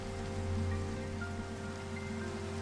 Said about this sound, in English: the rain is going to stop with the morning